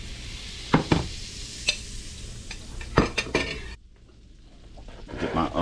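Liquid butter sizzling in a pan over medium heat, a soft steady crackle broken by several sharp clinks of a utensil against the pan, then a brief near-silence before the sizzle returns.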